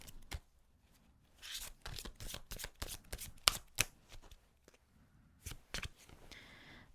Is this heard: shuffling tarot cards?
yes